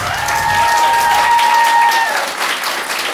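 Loud, dense applause from a stand-up comedy audience fills the room steadily, with a brief tonal whistle riding over the clapping in the first half.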